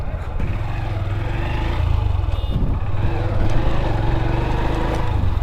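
A motorcycle engine rumbles close by at Lohagara railway station, its low throbbing growing slightly louder and staying steady.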